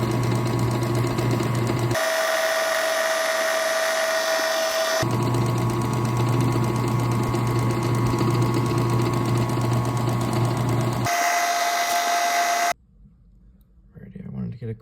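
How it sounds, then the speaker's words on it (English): Highland Park 8-inch cabbing machine running its bowl wheel with cerium oxide to polish banded agate, a steady whirring motor tone that shifts pitch as contact changes, ending in near silence with a faint voice. "This is what we call the bowl wheel."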